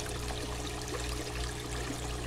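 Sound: water draining through a bell siphon

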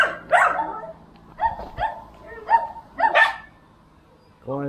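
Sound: dogs barking

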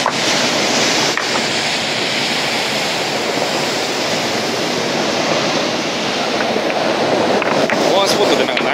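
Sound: ocean waves on the Nari-ishi pebble beach, Tottori

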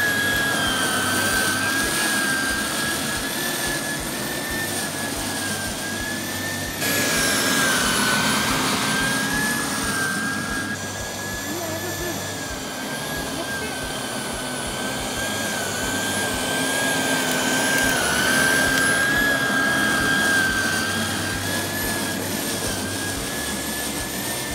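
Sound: Sun Joe electric scarifier and lawn dethatcher running

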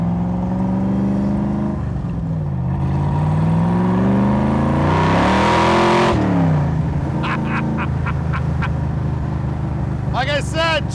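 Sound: 1965 Shelby Superformance Cobra engine revving at half throttle

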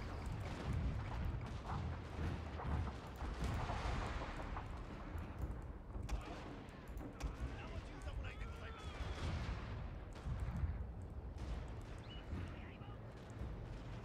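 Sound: hand mortars firing in Shogun 2 video game

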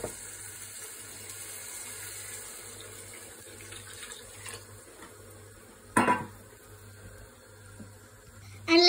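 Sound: water being added to rice in a pot

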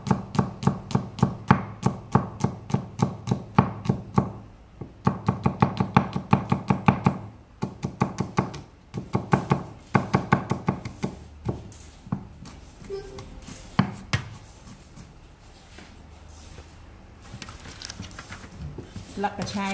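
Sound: chopping garlic with a knife

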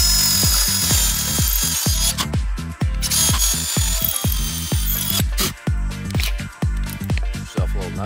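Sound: power drill drilling hole for metal shed anchor

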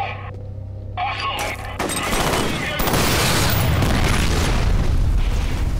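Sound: barrels shot and exploding in video game F.E.A.R

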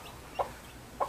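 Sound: rooster crowing and clucking

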